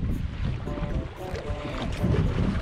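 A fishing boat engine hums low and steady off Kochi, Japan, mixed with wind buffeting the microphone and water noise.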